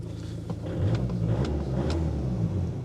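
An old diesel car with 160,000 miles idles steadily just after starting, a close, low rumbling drone that swells slightly after the first half second and holds even with no talking.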